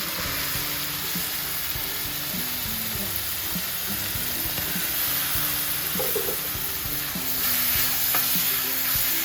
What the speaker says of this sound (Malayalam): ചോപ്പ് ചെയ്തിട്ടുള്ള ചുമന്നുള്ളി ഇതിലേക്ക് ഇട്ട് കൊടുക്കാം.